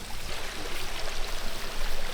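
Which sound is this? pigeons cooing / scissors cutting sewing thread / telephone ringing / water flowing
water flowing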